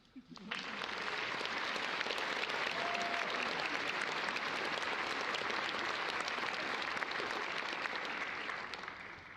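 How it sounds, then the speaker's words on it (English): A large commencement audience applauds the keynote speaker at a university morning ceremony. The clapping is dense and steady, starts abruptly and holds at an even level for about nine seconds. "Please join me in giving one more round of applause to our wonderful keynote speaker, Mr. Matt Moore."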